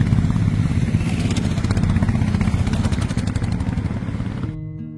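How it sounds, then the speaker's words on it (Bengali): A group of motorcycles rides past on a mountain road in Arunachal Pradesh near Tawang, a loud, continuous roar of engines that eases off and thins out at the end. "যেটা বাইকার গ্যাং যাচ্ছে।"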